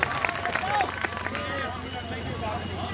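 Crowd at an outdoor kushti wrestling match, a busy hubbub of voices and scattered claps with shouting under a public-address announcer.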